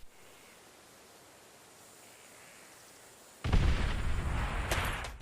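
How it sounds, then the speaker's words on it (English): A sudden heavy explosion erupts in Call of Duty: World at War on the Airfield map, a loud broad blast rumbling on for a couple of seconds after a long stretch of quiet hiss. "we know for sure that explosion came from near A"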